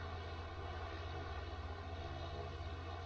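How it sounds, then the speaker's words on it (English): Airliner engines roar steadily on runway 33 at Perth International Airport during takeoff, a continuous low rumble with broad hiss, fairly distant and unbroken, with no talk over it. "Clear for takeoff runway 33"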